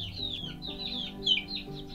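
Nineteen-day-old chicks chirp and cluck steadily and fairly close, with high peeps overlapping throughout and one slightly louder burst near the end, and no voices present.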